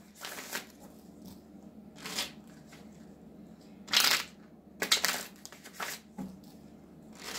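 Tarot cards shuffled by hand in several separate bursts, each a crisp riffling flutter with quiet pauses between, close and fairly soft.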